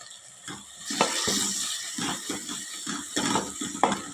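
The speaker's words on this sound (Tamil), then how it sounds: "இந்த பச்சை வாசம் போ போகிற அளவுக்கு இது வந்து வதங்கட்டும்" Garlic, curry leaves and ground shallots sautéing in a pan, a steady close sizzle broken by repeated scraping stirs in an uneven rhythm, with no talking.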